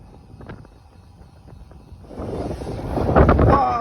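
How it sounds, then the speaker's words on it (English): Strong wind buffeting a microphone at the top of a bike climb at the Sea Otter Classic Gran Fondo, light gusts at first, then a loud roaring rush that builds over the last two seconds. "you're greeted with 20-mile-per-hour winds headed back to the base"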